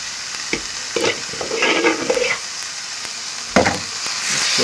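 Fried noodles for veg noodles are stirred in a hot pan, giving a steady sizzle with scraping stir strokes and a few sharp clinks of the utensil, close and alone.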